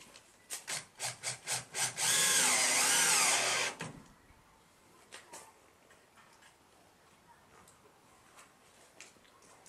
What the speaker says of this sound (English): so all our holes are drilled on our first sheet, so we're just going to screw that down now